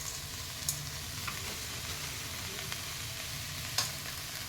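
Peas, corn and tomato frying in a pan for vegetable pongal give a steady, low sizzle with a few faint clinks of stirring, and no one speaks.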